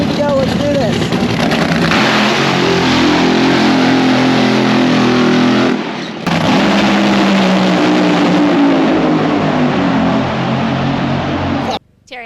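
A funny car drag racer launches at the U.S. Nationals in Indianapolis. A deafening, sustained roar fills the air, broken by a brief dip partway through, then cuts off abruptly near the end.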